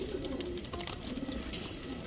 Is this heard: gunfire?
no